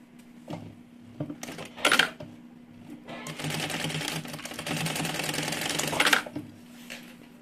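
A sewing machine runs a short side seam with backstitching on a small two-in-one backpack, with brief bursts of clattering stitches, then a longer steady run of several seconds, close and clear.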